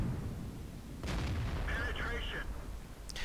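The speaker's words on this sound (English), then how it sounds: "When the tanks are finished off, they have that lovely kind of bassy boom." In the World of Tanks video game, a tank gun fires and a destroyed tank bursts in a bassy boom; one heavy blast hits after a second and rumbles on, with a sharper crack near the end.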